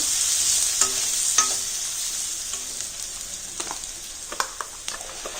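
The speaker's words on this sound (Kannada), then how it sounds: "ನೋಡಿ ನಾನು ಈ ಮಸಾಲೆ ಏನು ರುಬ್ಬಿದ್ದೀನೋ ಆ ಮಸಾಲೆ ಹಾಕ್ತಾ ಇದ್ದೀನಿ. ಇದು ಚೆನ್ನಾಗಿ ಫ್ರೈ ಆಗಬೇಕು." Ground masala paste sizzling steadily in hot oil for a pumpkin gojju curry, a broad hiss with scattered sharp spatters and a few spoon scrapes against the pan, close and moderately loud, no talking.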